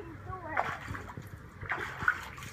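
A dog splashes water in a pool: a few sloshing splashes rise over a low steady background, with a voice audible at moments.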